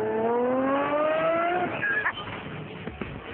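A 2010 Lamborghini Murcielago LP 670-4 SuperVeloce engine roars as it revs hard, its pitch climbing steadily, then breaks into rougher, bursting engine noise close by.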